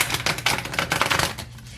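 Tarot cards riffled and shuffled by hand in a quick, dense burst of papery flutters and taps, close and fairly loud, easing off near the end.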